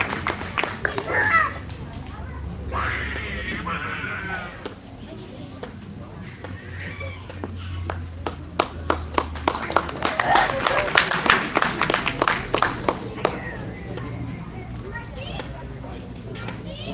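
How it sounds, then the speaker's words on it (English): Scattered clapping for a cricket player at a cricket academy gathering, fairly faint and sitting under continuous speech from a presenter. "so a big round of applause to him"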